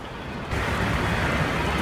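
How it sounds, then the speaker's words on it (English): Rain in the American Truck Simulator video game around Logan, Utah, a steady broadband hiss that swells louder after a half second and then holds evenly, with no talk. "The rain seems to be letting up somewhat."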